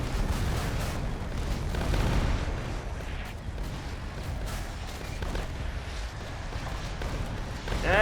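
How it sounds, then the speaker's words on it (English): An artillery barrage and napalm in Age of Undead, a modern real-time strategy game: a continuous heavy rumble of booming blasts and rolling explosions, with dense low thuds throughout and no talking. "There's the artillery. There's the napalm over there for some reason."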